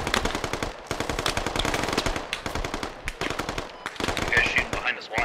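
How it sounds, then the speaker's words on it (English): A firefight in the video game Squad, with dense rapid machine-gun bursts and scattered gunshots, plus frag grenades, loud and continuous, with occasional voices faintly underneath. "Firefight erupting over the south. We do see frag grenades start coming out."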